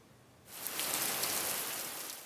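Steady rain pours onto a misty mountainside in Japan's Iya Valley, starting abruptly after a brief quiet moment and then holding as a dense, even hiss close by with no voices.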